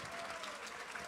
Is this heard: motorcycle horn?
no